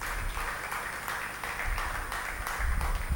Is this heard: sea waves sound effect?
no